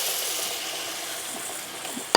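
A flour roux sizzles in a pot while cooking for cream of corn soup, a steady close frying hiss with light stirring, ending in a brief clink.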